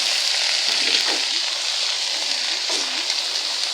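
Water spinach (kalmi shak) tossed into a hot pan over medium gas sizzles loudly and steadily, with a few scraping stirs breaking through the crackle.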